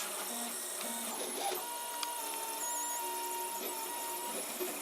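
A 3D printer printing blue PLA filament, its filament feeder turning very slowly, gives a faint, steady mechanical whir with soft stepper-motor tones and small clicks, heard alone without talk.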